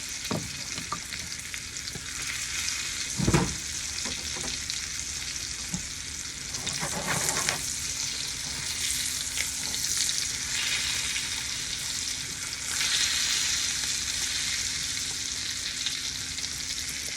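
Salmon sears in a hot pan with fresh chopped garlic, giving a steady loud sizzle and crackle throughout, with a few sharp clatters of utensil or pan movement early on and a brief surge in the middle.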